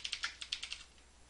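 Quick, light clicks of typing on a computer keyboard, about eight keystrokes in a short uneven burst, faint and close with nothing else around.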